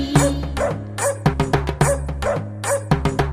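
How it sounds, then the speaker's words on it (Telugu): A dog's bow-wow barking sits within a Telugu children's song, with short repeated barks and yips rising in a quick rhythm over sustained musical tones. "అల్లం వారి కుక్క భౌ భౌ మన్నది"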